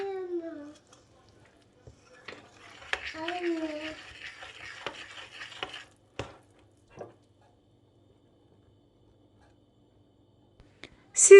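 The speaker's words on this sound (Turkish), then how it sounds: "İlk önce kaşıkla karıştırıyorum." A spoon scrapes and clinks in a bowl of flour mixed with baking powder and salt, a few seconds of light stirring, close and quiet, with soft speech at the start and scattered taps afterward.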